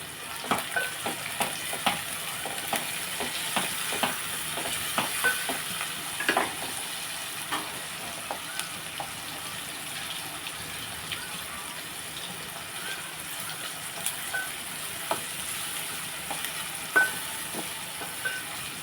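Tempering sizzles and fries in a pan with onions for a brinjal and raw mango curry, a steady soft crackle with scattered pops and occasional stirring clinks, close and fairly quiet.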